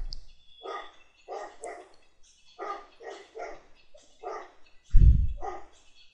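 A dog in the video game Digimon World 3 gives a series of short, clipped bark sounds in an evenly spaced rhythm, with a deeper thump near the end, clear and isolated against near silence.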